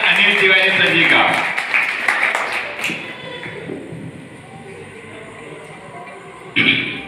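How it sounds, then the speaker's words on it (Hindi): Audience in a hall at a student exam-motivation event run by a charitable trust claps loudly to welcome a speaker, a dense burst that fades over several seconds, followed by a sharp thump near the end. "तो जोरदार तालियों से अभिवादन करेंगे अनिल तिवारी सर जी का।"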